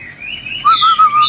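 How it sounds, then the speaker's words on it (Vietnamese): A Chinese hwamei songbird sings a clear, loud whistled phrase at close range, with bright rising notes followed by two strong sustained trills. "Đấy, chim hót rất là ok luôn và giọng hay cực kỳ luôn."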